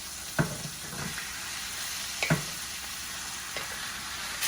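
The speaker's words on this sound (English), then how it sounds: "So then I'm gonna add our beef." Seasoned beef frying and sizzling in a pan as it is stirred, a steady broadband hiss broken by a few louder stirring scrapes, close and without talk.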